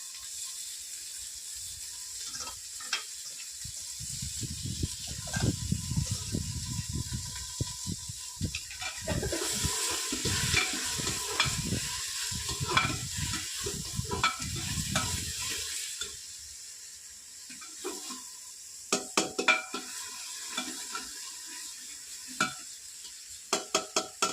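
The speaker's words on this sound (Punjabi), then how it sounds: "ਤੇਲ ਆਪਣਾ ਪੂਰਾ ਜੜ ਗਿਆ ਸੀ ਤੇ ਪੂਰਾ ਨਾਲ ਦੀ ਨਾਲ ਹੀ ਫਰਾਈ ਹੋ ਗਿਆ" A vegetable, likely pumpkin, fries in fully heated oil in a home kitchen while being stirred, with steady sizzling and scraping strokes that fade into quieter scattered clinks near the end.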